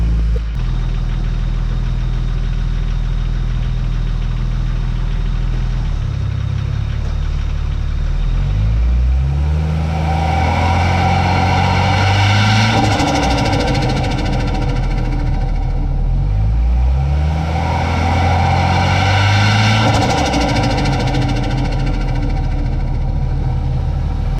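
A Ford XR6 Turbo engine idles steadily while warming up, loud and close, with a continuous low rumble and two slow swells where the idle rises and settles again.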